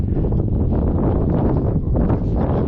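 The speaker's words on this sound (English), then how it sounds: "A bit windy." Strong wind buffeting the microphone on Naka-dake, the middle peak of Mt. Aso volcano in Japan, a loud continuous low roar with gusty surges and no speech.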